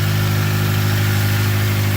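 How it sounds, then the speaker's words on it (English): A car engine with an exhaust leak idles steadily and loudly up close, a constant low rumbling drone with a faint valve tick audible, no talking. "Sure, I've got an exhaust leak somewhere."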